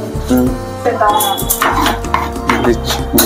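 A knife chops onions and tomatoes on a board in a home kitchen, with quick, steady, close cuts throughout and a faint background voice.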